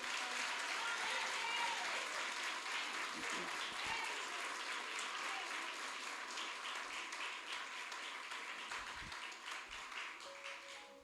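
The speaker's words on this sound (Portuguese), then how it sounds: "Você pode dar uma linda salva de palmas por esta palavra?" A church congregation at a Portuguese-language Sunday morning service bursts into sustained, loud applause that fills the room, then slowly tapers off over about ten seconds.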